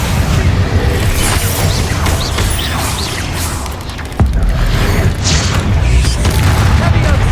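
A Confringo fire spell blasts in Hogwarts Legacy, a loud, sustained booming roar with crashing debris and a sharp new burst of explosion partway through, dense and close.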